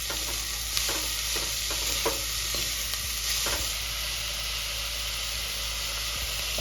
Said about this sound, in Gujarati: હવે આ તળવા દઈશું આપણે થોડીક વાર વેજીટેબલને